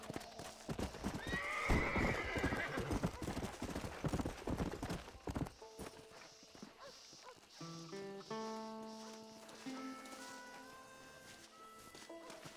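A horse gallops with quick, loud hoofbeats and a neigh in Red Dead Redemption, the pounding fading after a few seconds into tonal game music.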